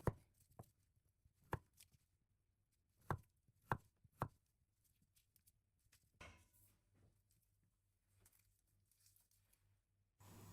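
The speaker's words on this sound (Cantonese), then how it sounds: "先將啲芋頭切片，再切成芋頭粒備用。" A knife chops taro into small dice on a cutting board in a quiet kitchen, sharp irregular knocks spaced apart, followed by softer scraping and handling sounds.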